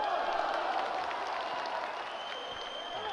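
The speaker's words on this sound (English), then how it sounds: "Crowd getting behind Abdulayev now." An arena crowd at a 91kg boxing bout in Baku applauds and cheers, a steady, dense roar of clapping and voices that holds at a constant level throughout, sounding somewhat distant.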